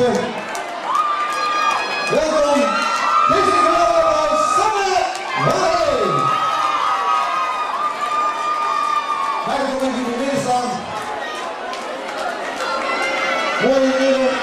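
Audience at a Prinsenbeek carnival Prinsenzitting cheers and applauds the new court ladies, a loud, continuous crowd roar with shouts over about fourteen seconds, while a voice and music-like tones carry on above it.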